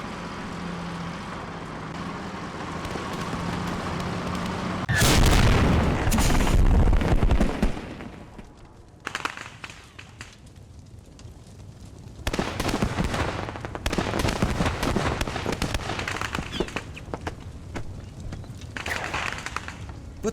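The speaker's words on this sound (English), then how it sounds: "if a tank is destroyed, you can hear these sounds of explosions and gunfire" Tank ammunition cooking off in the WWII shooter Post Scriptum: a loud burst of explosions around five seconds, then scattered rattling gunfire and booms in irregular clusters, rising again later.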